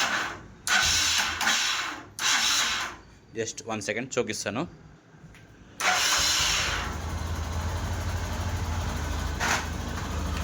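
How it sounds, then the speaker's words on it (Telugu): A Karizma R motorcycle engine cranks in a few short bursts, then fires and settles into a steady close idle, with someone talking briefly between the cranks. "ఒకసారి మీకు ఇంజిన్ బీటింగ్ అది వినిపించాలి కదా"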